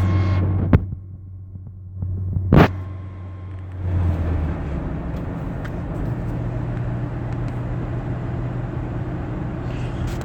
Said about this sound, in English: I'm driving a 5-speed, so I'm having to change gears